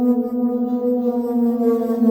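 Heavyocity Mosaic Neon synth holds a steady, bright tone as an inverted pitch bend splits its channels, one gliding down two semitones while others rise, loud and sustained with no talk.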